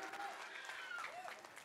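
Audience applause fills a dance competition stage show, a dense, steady clatter of clapping with voices and cheering mixed in throughout.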